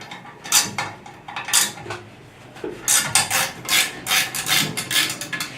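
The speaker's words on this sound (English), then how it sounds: "you're going to need to take it off with some wrenches" Wrenches work loose the bolts on a bar of a ground switch operator, giving a close series of irregular metallic ratcheting clicks and scraping clinks with short pauses between bursts.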